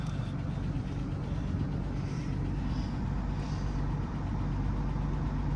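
An engine idles steadily on a car at a salvage auction lot, a low even rumble holding at moderate level throughout with no talk.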